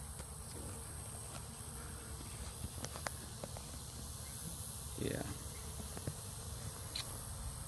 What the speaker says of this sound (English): Bees are getting after it.